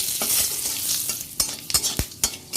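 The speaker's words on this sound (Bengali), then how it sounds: "এগুলো লাল লাল করে একটু ভেজে নিচ্ছি" Dried red chillies, a bay leaf and five-spice seeds fry in hot oil, giving a bright sizzle that fades and is punctuated by several sharp scraping and knocking strokes of a spatula in the pan, with no voices.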